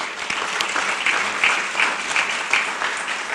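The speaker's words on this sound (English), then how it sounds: "Give him a round of applause." An audience at an Essex County Italian Heritage Month celebration applauds a county official, a moderate, continuous patter of clapping with some distinct louder claps, fairly distant and even throughout.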